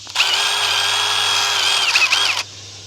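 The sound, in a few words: power drill drilling out a hole with a larger bit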